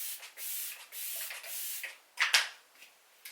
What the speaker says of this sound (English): now I'm just going to spray some setting spray